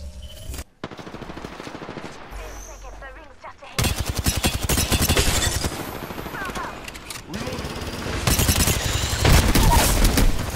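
Heavy gunfire in a battle royale video game, sustained automatic bursts and rapid shots that grow louder and denser, interrupted by a short lull near the start.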